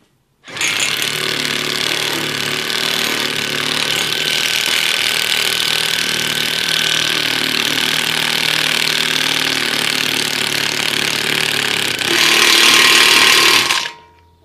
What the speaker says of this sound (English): put your raw bolt in place, and then tighten your impact wrench